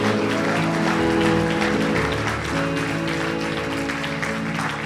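A church congregation claps together during a morning worship service, producing steady, dense applause that fills the room without a break, with organ or keyboard tones sustained underneath.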